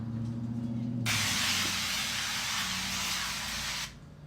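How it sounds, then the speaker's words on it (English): Nonstick cooking spray hisses out of a can into a Bundt pan in one continuous close burst lasting about three seconds, over a low steady kitchen hum. "you wanna spray it down really good with your nonstick spray so nothing sticks"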